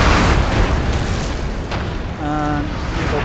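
Mortar fire in a Napoleon: Total War battle, a loud booming blast with rumbling battlefield noise that fades, and a faint tonal sound near the end.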